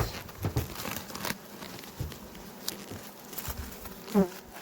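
Honeybees buzzing steadily around an open hive during an inspection at a highland apiary, a close, droning hum with occasional louder passes near the listener and faint handling noises.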